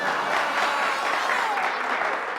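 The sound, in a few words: applause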